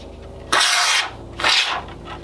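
Two bursts of expanding foam hiss from an aerosol can as it is sprayed into the space under the head of a dollar-store skull prop, each about half a second long and fairly close.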